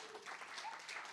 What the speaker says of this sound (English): Yes, you can clap, thank you.